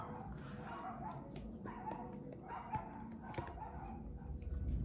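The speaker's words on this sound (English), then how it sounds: "those dogs in the background" Dogs bark and yip intermittently in the background, fairly distant, over a steady low hum of room noise.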